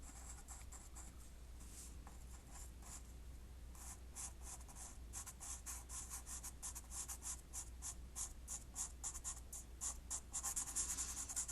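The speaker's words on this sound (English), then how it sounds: "my pencil strokes." Soft charcoal pencil strokes rubbing on paper, close and faint, a continuous scratchy shading sound that becomes rhythmic and slightly louder toward the end, with no voices.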